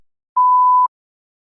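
A single clean electronic tone in a test recording, a steady mid-pitched beep lasting about half a second, loud and isolated against total silence.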